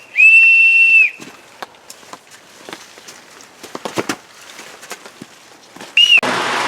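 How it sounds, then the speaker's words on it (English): A small steam engine's whistle gives one sharp, steady blast of about a second, then a short second toot near the end, with scattered knocks and footsteps between on a rainy outing. "wants to blow the whistle"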